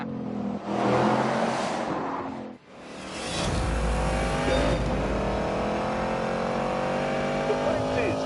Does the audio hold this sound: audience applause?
no